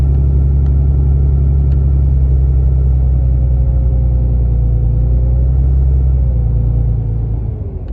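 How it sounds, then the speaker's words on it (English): A car cruising steadily along Main Street in Boonsboro, Maryland, its engine a loud, continuous low rumble heard from inside the cabin, easing off slightly near the end. "I'll drive through town and then I'll drive back again."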